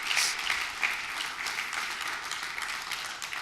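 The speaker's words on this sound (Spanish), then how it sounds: "Si va a aplaudir, aplauda fuerte para darle al Señor toda la gloria." Congregation at a church service applauding, a continuous wash of many hands clapping with some faint cheering, steady and moderately loud for a few seconds.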